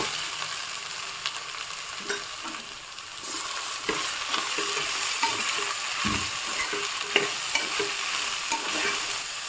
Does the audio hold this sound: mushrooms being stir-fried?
yes